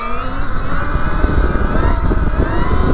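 KTM E-XC Freeride electric dirt bike ridden off-road, a steady loud electric motor whine with wind and rolling rumble throughout, no talk.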